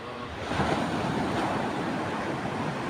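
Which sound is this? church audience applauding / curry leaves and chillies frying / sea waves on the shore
sea waves on the shore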